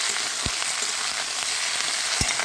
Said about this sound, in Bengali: তো আজকে রান্না হচ্ছে রবিবার, একটু মাংস হবে